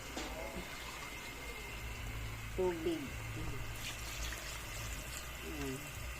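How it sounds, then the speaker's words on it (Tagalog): Water is poured into a pot of vegetables while cooking pancit bihon, a soft, filling splash and gurgle partly masked by a person talking in Tagalog and kitchen background noise. "Lagyan ko na sa guys ng tubig"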